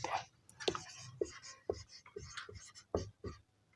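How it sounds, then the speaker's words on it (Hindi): Chalk or marker writing on a classroom board during a maths lesson, a series of short, distinct scratchy strokes and taps in an irregular rhythm, close and fairly crisp. "चलो भाई दोबारा लिख देते हैं"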